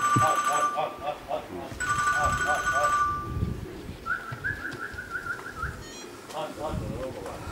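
Racing pigeons arriving one or two at a time at a loft, with soft cooing and bird calls near and far while a person talks and a phone rings in the background.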